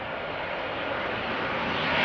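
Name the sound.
Transavia airliner arriving at Schiphol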